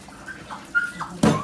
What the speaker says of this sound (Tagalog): Hugas muna tayo ng mga plato.